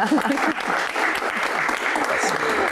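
A studio audience claps continuously through an Indonesian talk show segment, a steady, moderately loud patter with some voices mixed in.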